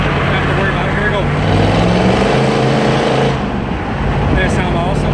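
A Detroit Diesel 6.2 V8 engine revs with a deep, rumbling roar that swells and eases, loud and close, with someone talking over it.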